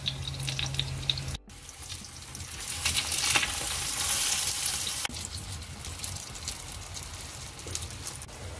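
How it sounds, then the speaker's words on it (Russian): Bell pepper sizzles in hot oil in a frying pan on a foil-covered stovetop, a continuous loud crackle that swells partway through, with no talk. "Теперь обжариваем перец."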